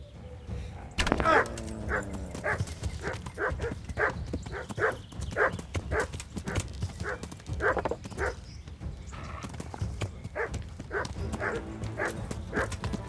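Dogs bark in the medieval video game Kingdom Come: Deliverance, a long run of sharp, close, evenly spaced barks with a brief pause near the end.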